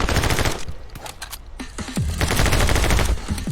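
Dual SMGs fire in a video game in loud, rapid automatic bursts, a dense rattle of shots with brief pauses between volleys.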